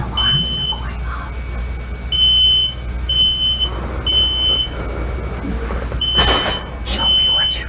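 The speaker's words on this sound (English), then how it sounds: "The alarms are going off" Smoke alarms sounding in a home during a fire drill, repeated shrill beeps in short bursts with people talking and moving around between and over them.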